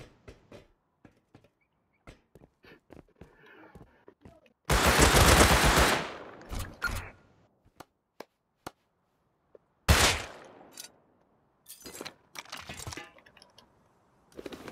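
An automated turret in the Rust video game fires in two loud, dense bursts of rapid shots, separated by scattered single cracks and clicks, with brief quiet gaps between.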